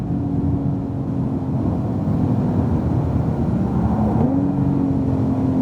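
A 2018 Porsche 911 Turbo S lapping a track, its engine a steady, loud drone heard from inside the cabin, with the pitch dipping briefly before climbing again as the car accelerates.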